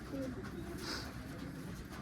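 A black-faced Kasur pigeon gives low cooing calls at close range over a busy background, with a brief higher chirp in the middle.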